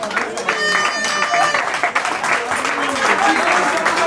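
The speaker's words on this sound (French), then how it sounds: "Applaudissez pour le duo gagnant" Wedding guests clapping for the couple at a civil and customary ceremony, lively continuous applause with a voice speaking over it and some musical tones beneath.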